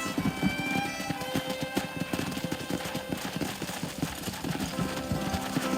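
Horse hooves clip-clop in a steady, rhythmic trot in the Red Dead Redemption video game, loud and continuous over a faint ambient wash.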